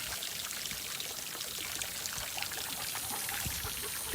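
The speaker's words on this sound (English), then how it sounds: "Trying to fill up the pool. The hose is a mind of its own." Water pours from a garden hose into a pool in a steady, close, splashing gush that keeps up throughout, followed by a brief knock at the very end.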